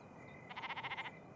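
A sheep bleats once in a barn, a short wavering call of about seven rapid pulses, faint and alone against quiet background.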